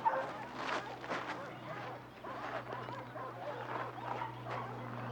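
A dog whimpers and gives soft barks in a scene from the TV drama Highway to Heaven, fairly quiet over a low steady hum.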